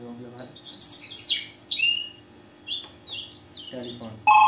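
A bird-chirp preset on a Roland XPS 30 keyboard plays scattered bright tweets and short warbling calls, moderately loud and alone, ending with a sharper synthetic tone.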